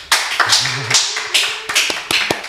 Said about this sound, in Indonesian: Boleh tepuk tangannya lagi dong?